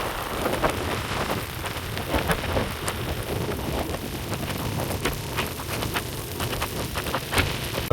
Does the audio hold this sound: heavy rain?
yes